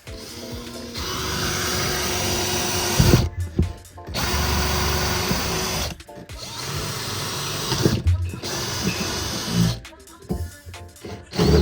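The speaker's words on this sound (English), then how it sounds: "then I've got a massive drill bit that we're going to follow through with" A massive drill bit cutting through car fabric on a bagged Skoda Fabia vRS: a loud, continuous power-drill whine in several long bursts separated by brief stops, with short rattly spurts toward the end.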